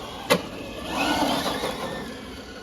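Traxxas Bandit 4S belt-drive RC car with a sharp click and then a rising electric motor whir as it speeds past close by, fading after a couple of seconds, with no talk.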